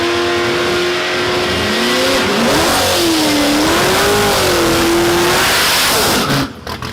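A Chevrolet Gen 5 V6 engine revs hard and loud, its pitch rising, dipping and climbing again in a sustained close-up roar before cutting off abruptly near the end.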